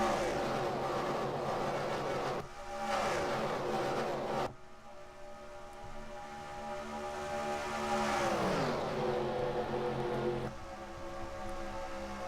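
Stock race car engines drone at Daytona in a racing video game, a dense steady roar with a sharp cut partway through and a falling pitch sweep as a car passes.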